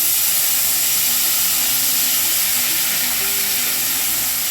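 Frozen mixed vegetables fry in oil in a pan on a stovetop turned low, giving a constant, loud, dense sizzle and hiss with steam throughout and no talking.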